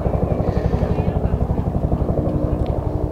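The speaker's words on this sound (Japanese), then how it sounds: "ちょっとヘリコプター来てますが" A helicopter passing over Showa Kinen Park, a loud, close, rhythmic rotor thump holding steady throughout with speech underneath.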